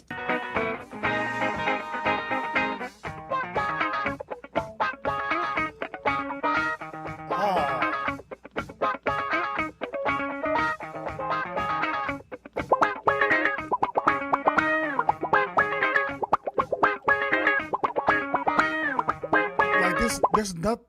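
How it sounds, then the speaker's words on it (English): Solo electric guitar playing a busy, melodic line with sustained notes and quick runs, heard alone and fairly loud throughout. "Let's listen to some guitar"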